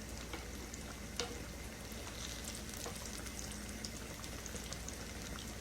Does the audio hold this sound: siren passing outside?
no